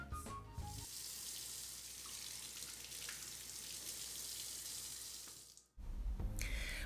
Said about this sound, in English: First, let's wash our hands.